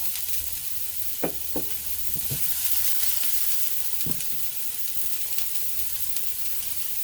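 Steady, loud sizzling of onions frying in a hot pan, with a few scattered clicks and scrapes over a constant hiss.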